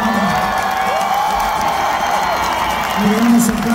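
Concert crowd applauding and cheering steadily throughout, with whoops and shouts mixed into a loud, dense roar from a large audience at a live show.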